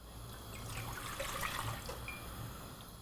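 Two cups of water pour steadily into a pot for vegan galaktoboureko syrup, a continuous close splashing trickle lasting the whole stretch with no talk.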